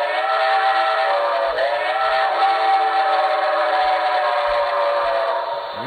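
A steady, sustained whistle from a model Reading T1 4-8-4 steam locomotive blows continuously for several seconds, loud and close, with a brief dip in pitch partway through.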